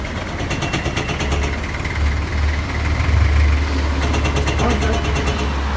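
A camper van engine idles with a low, uneven rumble and rhythmic exhaust pulsing from a broken-off exhaust, steady throughout at close range.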